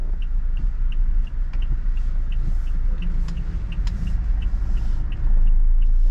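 A 2022 Toyota Innova Reborn G diesel with manual gearbox drives in second gear through a turn, a steady low engine and road rumble heard from inside the cabin with faint ticking clicks over it.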